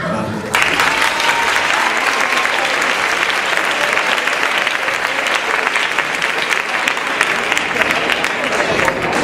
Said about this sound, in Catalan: li farem un aplaudiment